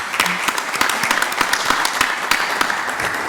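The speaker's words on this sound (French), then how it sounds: "J'applaudis la maman de Madame la ministre." An audience at a public talk and debate applauds the mother of a French minister. The clapping is loud and sustained, with many sharp individual claps standing out in a continuous crowd patter.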